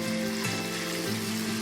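Chili frying in a pan gives a steady, close sizzle that holds at even loudness throughout the short moment. No voices.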